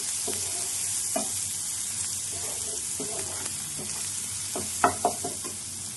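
Fish roe curry seasoned with chilli powder being stirred and mixed in a pan, a soft steady sizzle with scattered scraping strokes of a spoon and a couple of sharper knocks near the end.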